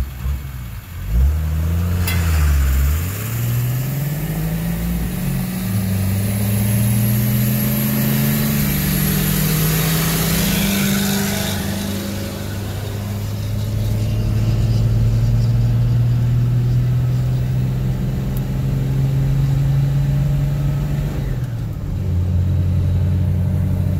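A 12-valve 6BT Cummins-swapped Ford Excursion and a 7.3L Powerstroke Ford F350 diesel truck launch from a standstill and accelerate hard, a loud rising engine drone that climbs steadily through the gears for about twenty seconds, with no talking.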